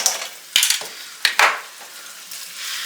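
Ground beef with a tablespoon of garlic frying in a pan, a steady close sizzle broken by a few sharp scraping and clinking stirs of a utensil against the pan.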